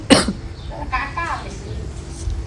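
One short, harsh cough from an ill person bursts out at the start, then quieter talking follows.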